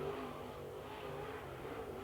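A super late model race car engine at a speedway qualifying session, a distant, steady roar with a sustained droning tone, faint and continuous throughout.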